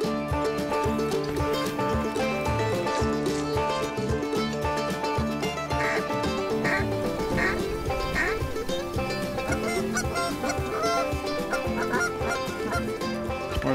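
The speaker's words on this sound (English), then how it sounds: "Want to try these geese?" A flock of geese honking as they fly in over a waterfowl hunt in Manitoba, many overlapping calls layered densely and continuously, loud and close, with faint human voices mixed underneath.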